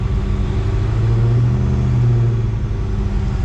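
Dodge SRT Hellcat V8 held on the brake while brake boosting before a race, a loud, steady close-up engine roar with a deep rumble that swells slightly midway, no talk.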